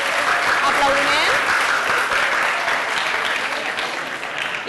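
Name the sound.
classroom applause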